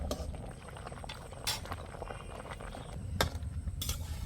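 Potatoes and mixed greens, including young taro leaves, boiling in a pot: a steady, close bubbling churn with a few faint clinks scattered through it.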